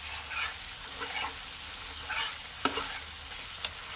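Bengali spice masala sizzles and fries in oil in a pan for a puti fish curry, a steady close crackle with occasional stirring scrapes and a few sharper clinks.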